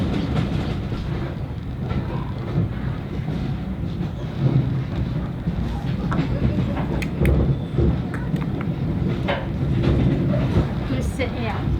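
A steam train on the Nene Valley Railway rolls along, a steady rumble with rhythmic clatter of wheels on track heard from inside a carriage, with occasional voices in the background.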